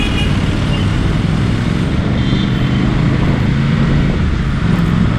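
An Aprilia RS 457 motorcycle rides through city traffic, giving a loud, steady rumbling road and engine roar with wind noise and surrounding traffic, with no voices.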